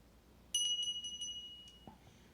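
A single bell is struck and rings out clearly with a bright, sustained tone that decays over about a second in a quiet room, followed by a faint murmur.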